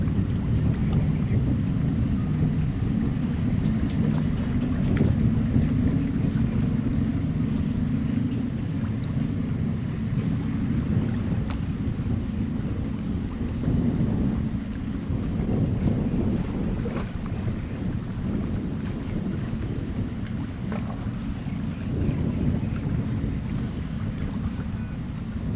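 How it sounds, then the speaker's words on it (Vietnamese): A high-speed passenger ferry runs fast across open sea into a headwind and oncoming waves, its engine droning steadily beneath loud, constant wind buffeting and the rushing slap of water against the hull, with no voices. "Đang gặp gió ngược với sóng ngược nha."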